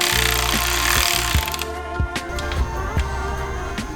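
A torque wrench ratchets while bolting an upper oil pan onto an engine, a series of sharp, evenly spaced clicks close by, following a short stretch of louder, rougher mechanical noise.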